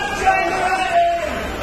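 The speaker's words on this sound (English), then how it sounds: "And this crowd definitely behind Briscoe." A pro wrestling arena crowd at a GHC Junior Heavyweight title match roars and cheers in a steady wash, with a commentator talking over the noise.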